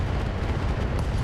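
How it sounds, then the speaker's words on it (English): An ammo explosion in the RogueTech mod of the BattleTech video game, heard as a dense, continuous low rumbling roar that stays at steady loudness throughout the short stretch, with no voices over it. "Ammo explosion there,"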